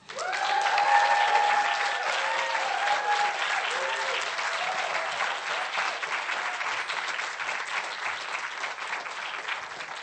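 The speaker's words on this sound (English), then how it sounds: "So can we have a round of applause for Zarita?" An audience applauds at the Beyond Brent 2020 event, a dense, sustained clapping that stays fairly even for the whole stretch and eases slightly near the end.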